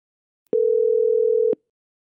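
A single steady telephone tone sounds for about a second after a number is dialed, starting and stopping abruptly against silence.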